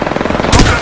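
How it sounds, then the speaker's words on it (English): Rapid automatic gunfire in the battle royale shooter Apex Legends, a loud close rattle of shots that swells into a heavier burst halfway through. "Shots fired at me."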